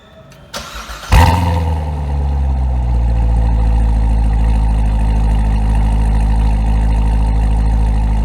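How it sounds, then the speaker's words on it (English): A ceramic gray Corvette Grand Sport starts up with a short crank and a sharp bark, then settles into a loud, steady, deep exhaust rumble on the Corvette Boulevard, close by and with no voices. "he gave us this little clip of an exhaust note right there on the Corvette Boulevard."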